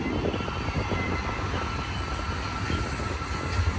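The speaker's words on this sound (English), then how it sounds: "It's a fourth stack train here." A double-stack freight train rumbles past steadily nearby at Cajon Pass, a continuous broad roar of rolling wagons and wheels with no pauses.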